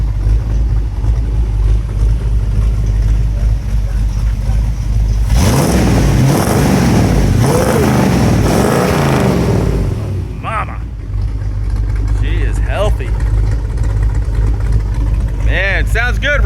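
The 390 engine of a 1956 Ford F100 4x4 stepside pickup with a mild cam idles with a deep rumble, then is revved loudly several times in quick blips before settling back to idle, with brief voices afterward.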